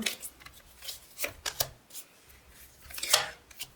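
Tarot cards being shuffled in a series of quick riffling bursts, close and fairly quiet, with a brief louder flurry near the end.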